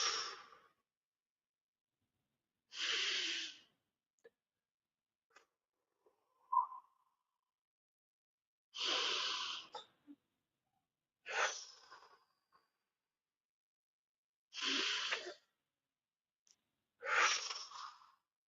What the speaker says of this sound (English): Inhale to the left. Exhale to the right.